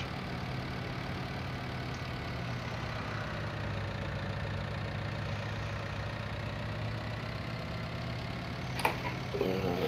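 A truck engine in American Truck Simulator hums at a steady idle-like drone from inside the cab, low and constant with little change in revs, a faint click near the end.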